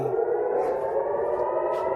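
A sustained air raid siren in Tel Aviv during rocket fire wails loudly and steadily, a continuous droning tone with no pause.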